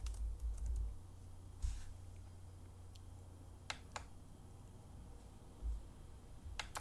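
Fingers type on a computer keyboard, a quiet run of light clicks and key taps with a few sharper strikes spaced apart, close and alone with no talking.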